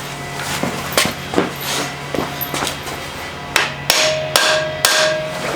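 A hammer strikes a foot peg on a 1978 Honda XL 175 motorcycle, about ten sharp metallic blows, loud and close. They come at irregular intervals, spaced at first, then in a quicker run near the end.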